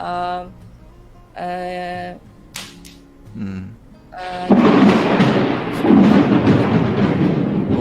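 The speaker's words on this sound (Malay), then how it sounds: "bunyi petir kuat kuat." Loud thunder breaks in as a heavy, broad rumbling roar after a few short tonal sounds, and it stays strong to the end.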